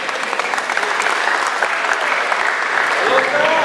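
Enthusiastic applause honouring Prof. Dr. Marzita Puteh at her farewell ceremony, loud close clapping from a crowd, with a voice faintly audible beneath it near the end.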